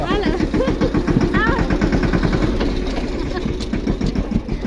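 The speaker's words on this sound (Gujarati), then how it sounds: "હાલો આપણે ગેટ ખોલે નાખીએ એટલે ટ્રેક્ટર નીકળી જાય" A tractor engine chugs with a rapid, steady low rhythm, while people talk over it throughout.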